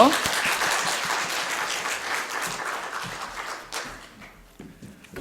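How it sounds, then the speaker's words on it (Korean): A church congregation applauds steadily in welcome, then the clapping fades out over a few seconds. "우리 함께 박수로 맞이하도록 하겠습니다."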